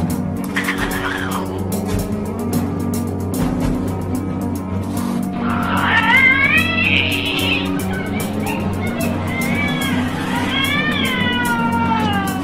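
A cat meows in two drawn-out, wavering calls over a steady, fairly loud background hum and clatter.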